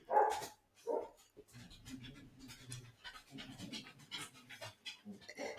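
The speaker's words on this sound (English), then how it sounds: "Oh, that's my neighbour's dog." A neighbour's dog pants and gives a couple of sharp barks near the start, then keeps up quick, rhythmic panting that runs mid-distance and fairly quiet throughout.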